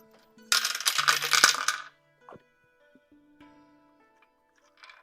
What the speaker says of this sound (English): Let's see what the dice say about this